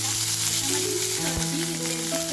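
Hot oil sizzles in a pan on a gas stove, a steady, close hiss running throughout with faint tonal sounds in the background.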